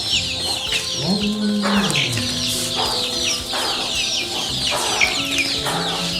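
Local chickens cluck and call close by in a steady chorus, with overlapping bursts and a brief flutter of wings.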